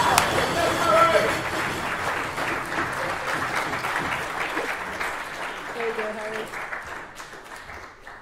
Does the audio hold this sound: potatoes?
no